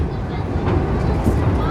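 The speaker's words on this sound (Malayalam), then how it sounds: "നമ്മുടെ ട്രെയിൻ എടുത്തിട്ടുണ്ട്" Garib Rath Express 3rd AC train departing, heard from inside the coach as a loud steady low rumble and rolling rattle, with people talking nearby.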